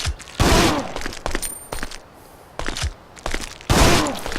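Repeated gunfire bursts from the Resident Evil Outbreak video game, loud, broadband volleys arriving in clusters separated by short quieter gaps, with no voices over them.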